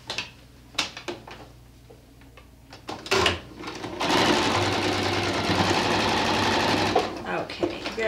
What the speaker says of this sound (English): So let me sew that right now, and then we'll be able to make the bow.